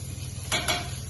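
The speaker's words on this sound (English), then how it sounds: "Into the same sizzling pan, I'm going to add the garlic" Garlic sizzling in hot oil in a pan, cooked in the same oil used for chicken, with a steady frying hiss and two brief bursts of louder crackle, close and alone.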